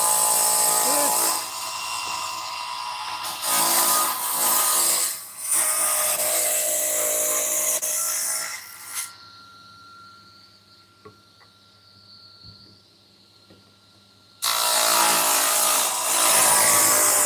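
A power saw on a router table cuts through wood with a loud, steady rasping whine that cuts off abruptly, leaving a quiet pause before the saw starts again.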